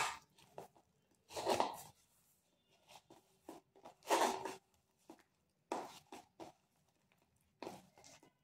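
Flattened rice being kneaded by hand with milk and ghee, giving soft, wet squelching and crunching pulses in irregular bursts, close and fairly quiet, with no talk.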